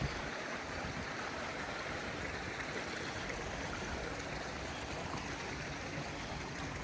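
Water running from the overflow of a large concrete koi pond at a commercial koi farm, a steady broadband rush that stays constant and fairly close with no talk.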